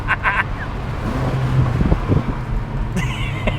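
A Mercedes-AMG CLA 45 with its small AMG engine pulling hard in Sport Plus mode gives a steady, loud low rumble that swells mid-run, mixed with wind buffeting and no talking.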